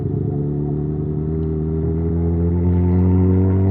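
A motorcycle ridden slowly in first gear on a wet road, its engine a steady, close, low rumbling drone with a slightly bumpy throttle, holding an even pitch that swells gently toward the end.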